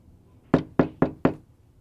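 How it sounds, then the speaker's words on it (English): Four sharp knocks on a door, evenly spaced at a moderate pace, close and fairly loud against a quiet background. "knocked on the door of the last individual they wanted to speak with"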